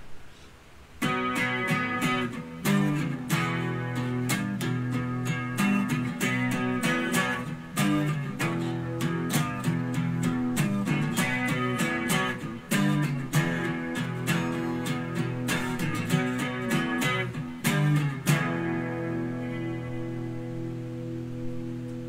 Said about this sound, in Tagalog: ito naman yung tunog ng humbucker